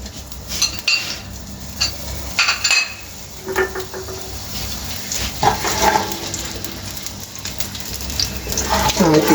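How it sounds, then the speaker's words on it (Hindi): Half of a chopped onion tipped into a hot pan for methi dana khichdi, with utensil clinks and scraping over a steady sizzle that builds toward the end, while someone talks throughout. "एक पूरे प्याज में से आधा मैंने काट के ये डाल रहा हूँ इसके अंदर।"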